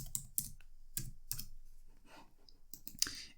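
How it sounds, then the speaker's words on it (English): A computer keyboard being typed on to enter an answer, a quiet close run of irregular key clicks and taps with short pauses between keystrokes. "So let's type that in."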